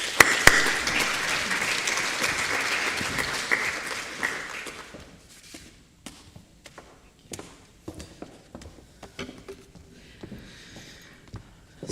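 Audience applause welcomes a lecturer on architecture in Ali Pasha's Epirus to the podium, a dense sustained clapping for about four seconds that fades into scattered claps, footsteps and small room noises.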